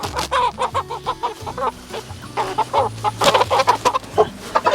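Chickens cluck continuously and overlap one another, a busy flock nearby with repeated short clucks and occasional louder calls.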